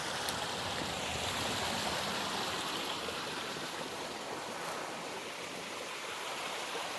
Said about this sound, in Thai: นี่ครับลำธารเล็กๆ น้ำตกเล็กๆ แค่นี้ก็ชื่นใจแล้ว